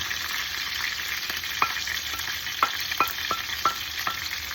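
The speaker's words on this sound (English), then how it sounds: "Fish is still back there frying up." Fish frying in a pan alongside an onion sauce for a Jamaican rundown dinner, with a steady close sizzle broken by several sharp stirring scrapes and no voices.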